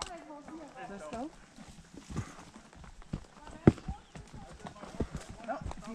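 Horse hooves clip-clop in an uneven rhythm on a hard surface, with people talking over them.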